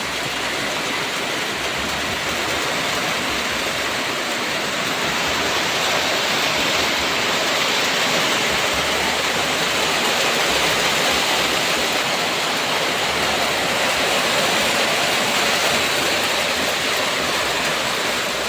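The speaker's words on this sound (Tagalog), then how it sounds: "Wow, salamat kayo sa ulan." Heavy rain falls on a farm during the end of a dry El Niño spell, a loud, dense, unbroken roar of downpour that holds steady throughout, with no voices.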